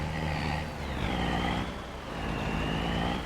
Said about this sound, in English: This truck sounds neat.